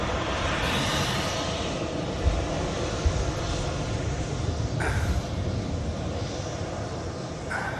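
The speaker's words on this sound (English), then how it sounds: "Just going to try and bring you this Etihad 350 overflight" An Etihad Airbus A350 airliner passes overhead near Manchester Airport, its steady broadband engine roar holding loud and constant throughout with a faint swell midway.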